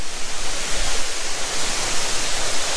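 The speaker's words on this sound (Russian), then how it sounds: "последние метры до водопада Лимон" El Limón waterfall in Samaná, Dominican Republic, heard as a loud, dense, unbroken roar of falling water, close and alone.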